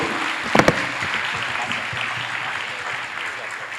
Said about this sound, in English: Please, round of applause to our Vice Minister.